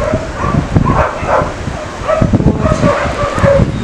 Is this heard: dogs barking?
yes